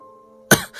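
A single sharp cough bursts out after a quiet moment, followed by a brief rasping tail, close and distinct.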